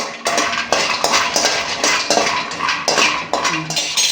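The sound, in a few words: stirring almonds while dry-roasting them in a pan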